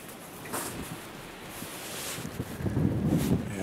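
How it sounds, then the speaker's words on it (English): Gusty outdoor wind buffets the microphone in low rumbling swells that strengthen toward the end, with no voices. "It's pretty windy today"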